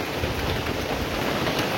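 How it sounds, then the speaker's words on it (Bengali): Heavy monsoon downpour on the forest trail up to the Parasnath temple hill in Jharkhand, a dense, steady roar of rain close by with no break and no voices. "তারপরে শুরু হলো মুষলধারে বৃষ্টি, একেবারে মুষলধারে।"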